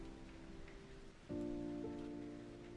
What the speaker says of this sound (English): I love that they actually have it raining.